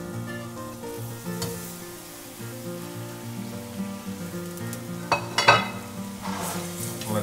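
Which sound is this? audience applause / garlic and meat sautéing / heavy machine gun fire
garlic and meat sautéing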